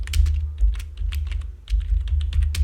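Rapid, steady typing on a computer keyboard while entering text in MS Word, with close, crisp keystrokes clattering in quick bursts and no voices.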